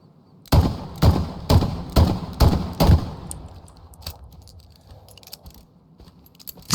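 Webley revolver being handled in Hell Let Loose: six sharp metallic clicks in a steady rhythm as rounds drop into the cylinder, close and crisp, followed by softer scattered ticks and a quiet tail.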